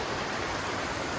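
Waterfall pouring down rock on a high mountain approach in the North Cascades, heard as a steady, dense, close rushing hiss with no pauses.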